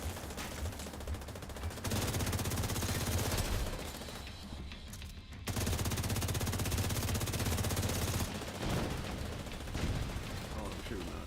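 Rapid automatic gunfire in a video game fills long sustained bursts, dense and loud, broken by short pauses between volleys.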